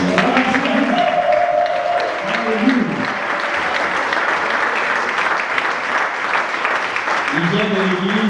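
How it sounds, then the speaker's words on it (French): A church congregation at an evangelical apostolic service applauds steadily and loudly for the whole stretch, a dense sustained clapping with voices speaking and calling out over it. "Est-ce qu'on peut l'avoir acclamé le Seigneur?"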